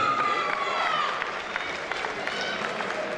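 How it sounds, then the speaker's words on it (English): Crowd at a combat sports fight night clapping and cheering for a fighter entering the blue corner, a steady wash of applause with a ring announcer's amplified voice over it. "please give a big round of applause for Chantelle Tippet"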